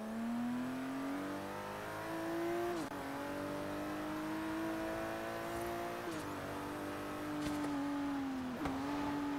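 A 1981 BMW M1's high-revving engine in Forza Horizon 3 drones steadily, pitch dipping briefly at gear changes before climbing again, loud and continuous with no voices.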